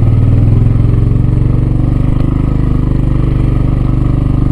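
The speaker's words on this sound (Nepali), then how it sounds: "बाइक ले तान्दै तानेन गाइस तानेन तानेन" A motorcycle engine labors loud and close on a rough off-road climb toward a hill temple, its steady low throbbing drone continuing without letup and no talking.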